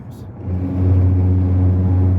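A car cruises on a highway, a steady low engine hum and road rumble building slightly after a short start, holding close and constant to the end.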